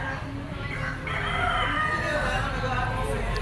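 A yellow-legged Henny gamefowl rooster crows loudly and close at a market stall, one drawn-out crow rising in the middle of the clip over a background of murmuring voices and ambient noise.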